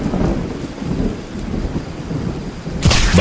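Steady rain hiss with a low thunder rumble in a Hindi cartoon storm scene, ending in a loud, sharp thunderclap crack near the close.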